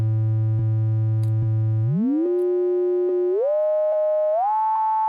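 A steady, buzzy triangle wave runs through an LMMS frequency shifter effect, holding a low tone and then sliding upward in several distinct steps, with faint clicks along the way.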